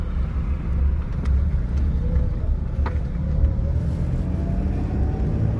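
A car drives at low speed during a driving lesson at a driving school in Gohana, a steady close engine rumble with faint road noise, no talk.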